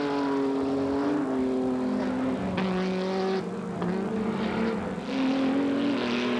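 Nissan Skyline touring race cars, including the Calsonic car number 12, racing in the 1990 Japan Touringcar Championship: a loud, continuous engine drone whose pitch rises and dips as the cars accelerate and brake, with no talk.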